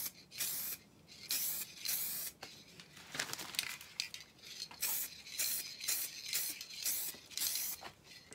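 Spray paint from an aerosol can is applied to a car phone holder tray insert for a Mercedes SLK R170 restoration, heard as a string of close hissing bursts of varying length separated by short pauses.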